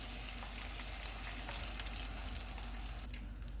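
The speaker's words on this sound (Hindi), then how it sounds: "चिकन को फ्राई करते हुए हम चूल्हे को लो टू मीडियम रखेंगे" Chicken fingers frying in oil over low to medium heat give a steady, soft sizzle and crackle throughout, with no talk.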